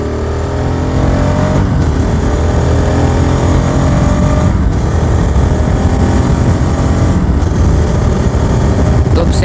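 A motorcycle accelerates hard along a road, its engine a steady loud drone under heavy wind rush from a helmet-mounted setup, with brief dips between gear shifts.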